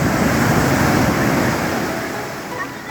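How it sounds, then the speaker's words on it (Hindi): Rough sea surf roaring steadily at Kovalam Beach in Kerala, a loud continuous wash of breaking waves that eases slightly toward the end, with no talk over it. "समुद्र उफान पर था और जोर से शोर मचा रहा था।"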